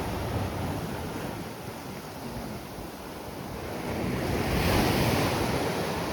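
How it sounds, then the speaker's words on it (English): Ocean waves crash onto coastal rocks at high tide on the Portuguese coast near Salema and Sagres, a steady roaring wash with wind buffeting the microphone, swelling louder toward the end. "we're at high tide, and so with all this water crashing down"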